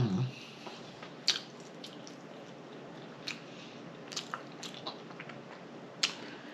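Someone eating favorite foods, including peppered macaroni, in a mukbang chews with soft, wet mouth sounds and sparse faint clicks and smacks, close and quiet, with no talking.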